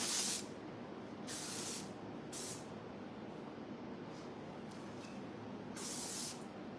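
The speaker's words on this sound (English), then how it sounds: "a little bit of Paw Chic 3-way hairspray" Paw Chic 3-way hairspray misted onto hair in several short bursts of close, hissing spray, separated by brief pauses.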